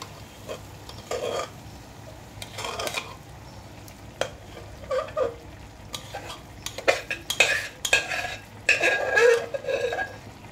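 A spoon stirring boiling broken-wheat dalia in a pot, with intermittent scrapes and metallic clatter that grow busier and louder over a low bubbling background, no talking.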